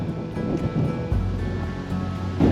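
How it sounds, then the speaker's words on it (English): Strong wind buffets the outside of a full-time RV pulled off the road, a steady low rumbling roar with gusts swelling near the end, and no voices. "I'm not doing anything with this wind"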